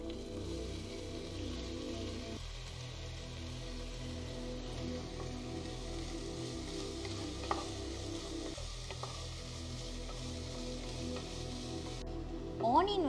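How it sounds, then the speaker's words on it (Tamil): Onions fry in a pan with spices for chicken korma, giving a steady, quiet sizzle with occasional stirring and utensil clicks near the end. "ஆனியன் வந்து நம்ம நல்லா ஃப்ரை பண்ணிக்கணும்."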